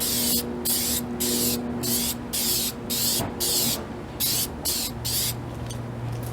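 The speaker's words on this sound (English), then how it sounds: "just going to take this automotive clear coat and spray it on" Aerosol can of automotive clear coat sprayed onto sun-damaged car paint in repeated close hissing bursts, each about half a second long, separated by short pauses, loud and steady with no talking.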